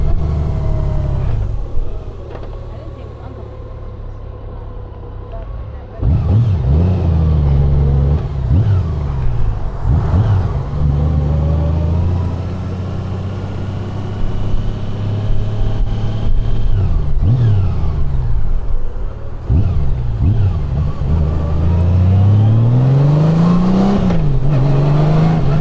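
A 2025 Honda Gold Wing motorcycle on a test ride, its engine droning steadily with several rising and falling rev sweeps as it accelerates and shifts, loud and close throughout, no speech.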